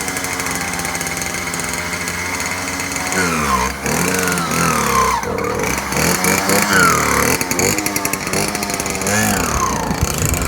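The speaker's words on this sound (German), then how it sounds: "Bike has full of power, but it makes a lot of noise" A speedway motorcycle engine runs loudly and close by, a harsh, buzzing roar with repeated rising revs and throttle blips over about ten seconds, no talking heard.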